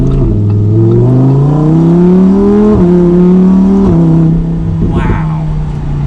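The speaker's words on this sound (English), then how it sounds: "Probably one of the best, if not the best sounding V10 out there. Then a slow acceleration." The V10 engine of a 2020 Lamborghini Huracan EVO Spider revs up through rising pitch during slow acceleration, shifting gears twice with quick drops, loud and close, with a voice briefly heard.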